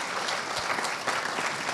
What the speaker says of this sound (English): what an appropriate time to give them all a round of applause